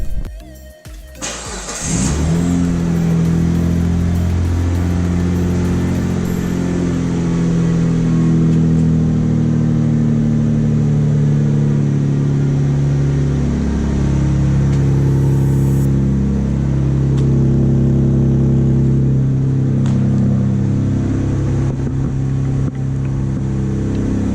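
A Galant VR4 engine cranks and starts, then idles loudly through a test pipe with a deep, rumbling exhaust note that rises and falls with revs throughout.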